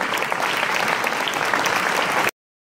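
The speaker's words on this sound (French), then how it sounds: "on peut les applaudir" A dense burst of audience clapping at a mayor's New Year's greetings ceremony in Roncq holds steady and loud for about two seconds, then cuts off abruptly into silence.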